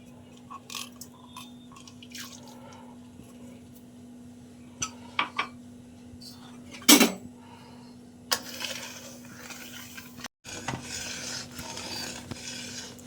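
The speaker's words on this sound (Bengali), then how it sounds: "অনেকক্ষণ থেকে নাড়ছি, অনেকটা ঘন হয়ে এসছে।" Thickening boiled milk with sugar being stirred in a pot for pitha, with intermittent scraping and clinks of a spoon against the metal, one sharp louder knock, then a sustained rasping stir near the end.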